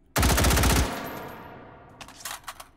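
An M16 rifle firing full auto in the VR shooter Hot Dogs, Horseshoes & Hand Grenades: a loud, rapid burst of about ten shots lasting under a second, then a ringing decay and a few faint metallic clicks and clatters.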